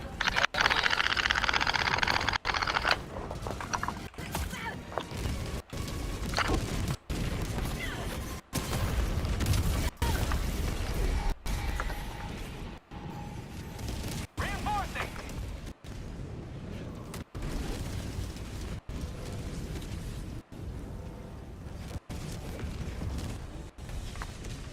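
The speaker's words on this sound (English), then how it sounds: "Orbital barrage incoming." An orbital barrage in a shooter video game, heard as continuous heavy rumbling with repeated booming explosions and crackling blasts that stay loud throughout, with occasional voices underneath.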